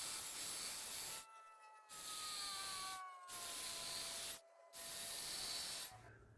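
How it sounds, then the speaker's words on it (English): Rotary cut-saw flame burr grinding wood to round off carved corn kernels on a log, a loud continuous high hiss in four bursts separated by short silences, with pitch slowly drifting as the tool loads. "I'm using the cut-saw flame burr to round off the kernels on the corn"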